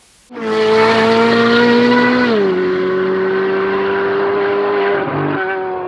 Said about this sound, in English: all these exhausts are going to make this flat plane crank engine sound ridiculous